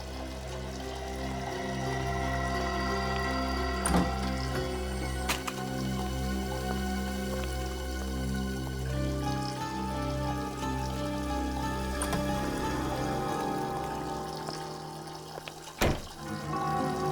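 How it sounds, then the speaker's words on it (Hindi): Running water flows steadily from a basement, a continuous rushing and pouring that holds throughout with occasional sharp knocks and clicks, while a low hum sits underneath. "ये पानी की आवाज तो बेसमेंट में से आ रही है।"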